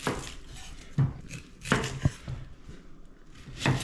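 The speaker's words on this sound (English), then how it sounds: "cut up our onions and leeks and potatoes" Knife chopping onions, leeks and potatoes on a board for a seafood stew, irregular close thuds and cuts in short bursts without talk.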